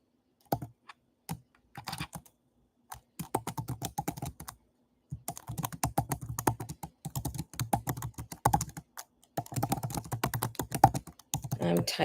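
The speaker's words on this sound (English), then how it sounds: "I'm typing in the chat now." Rapid bursts of clicking keystrokes on a computer keyboard, typing in quick runs broken by short pauses, close and clear with no talking.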